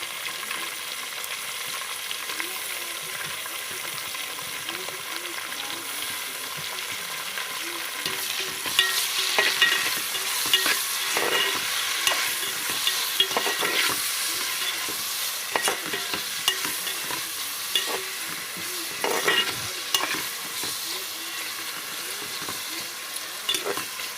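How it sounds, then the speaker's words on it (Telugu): Onions and tomatoes for white chicken kurma sizzle and crackle in a pan while being stirred, a continuous frying hiss with frequent scraping and clicks from the spoon, no talking. "ఇలా బాగా వేపాలండి"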